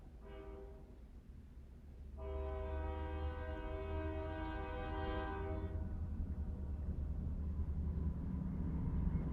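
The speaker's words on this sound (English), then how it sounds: "If you hear the train coming by" A train rumbles steadily nearby while its horn sounds twice, a short blast followed by a long sustained one, as the rumble grows louder.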